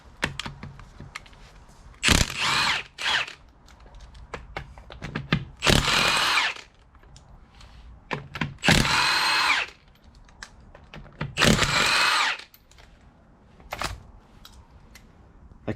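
A cordless drill fitted with a 1/2 to 3/8 inch socket adapter spins lug nuts off a trailer wheel in about half a dozen loud, short whirring bursts, with quiet clicks and handling noise between them and no talking.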